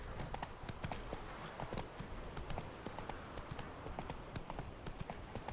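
Roach the horse's hooves clip-clop in a steady, continuous gait across rough terrain in The Witcher 3, a dense run of close, even hoofbeats with no talking over them.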